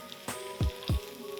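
Cabbage veggie cutlets frying in a pan give a quiet steady sizzle, broken by two soft thumps as the patties are flipped and pressed flat.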